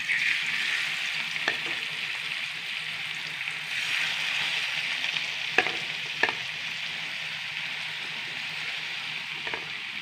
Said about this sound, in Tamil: நெத்தலி மீன் ஃப்ரை பண்ணோம்.